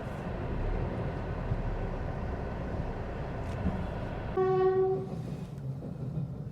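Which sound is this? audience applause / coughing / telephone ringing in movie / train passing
train passing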